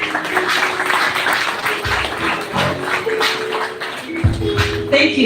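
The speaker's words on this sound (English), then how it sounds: "Please clap for the COD" At a gala dinner, guests clap unevenly, with scattered taps and bursts rising and falling under a murmur of voices and a few louder moments near the end.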